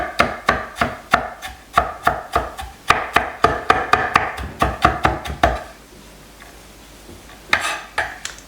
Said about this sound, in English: So we just want to mince this ginger.